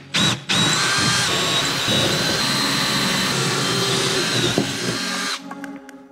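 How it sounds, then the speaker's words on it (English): A power drill fitted with an 8mm bit whines at a steady high pitch through a continuous five-second run, loud and close, starting after a short blip and winding down abruptly at the end. "So here I'm gonna go for an 8mm drill bit."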